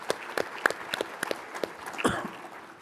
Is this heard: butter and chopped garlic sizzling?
no